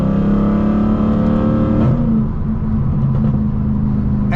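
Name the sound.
Mercedes C63 AMG engine downshift with exhaust crackles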